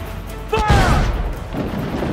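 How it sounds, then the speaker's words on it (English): Ship cannons fire in Assassin's Creed IV Black Flag, a single heavy booming blast with a crash that rolls away into a low rumble, briefly mixed with a faint voice. "To quarters all, man the cannons!"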